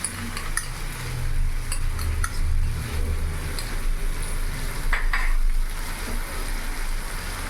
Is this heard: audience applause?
no